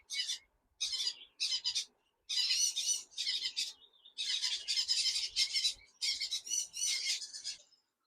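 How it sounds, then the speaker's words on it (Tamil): Lovebirds in a pet shop chirp and squawk in quick, shrill bursts, close and clear, in repeated clusters with short gaps between them and no talking. "Normal love birds."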